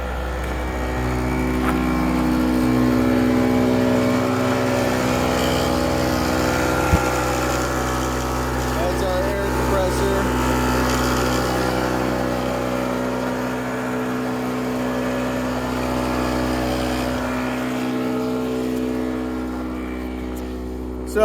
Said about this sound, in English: we have a bi-air air compressor mounted in the engine compartment